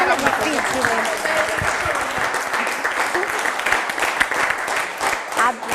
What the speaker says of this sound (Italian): facciamo un applauso a Cividale perché erano domande difficili